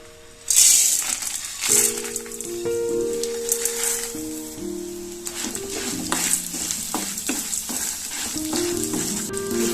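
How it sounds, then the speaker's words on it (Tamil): Whole spices are dropped into hot sesame oil and stirred, giving a crackling sizzle with scraping and clinking of the spoon against the pan, close and moderately loud, with no talk. "இப்போ நம்ம எடுத்து வச்ச மசாலா ஜாமானை இதுல போட்டு வறுத்துக்கலாம்."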